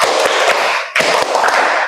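A class claps together in a rhythmic chant, two dense bursts of many hands slapping with distinct accented beats, loud and close throughout.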